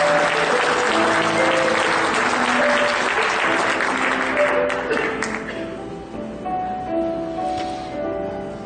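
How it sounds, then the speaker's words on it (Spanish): Strong church audience applause during a Spanish-language service at Casa de Gracia, loud and dense at first with music tones underneath, then tapering off into scattered claps as the sound fades. "Vamos, denle un aplauso fuerte al Señor."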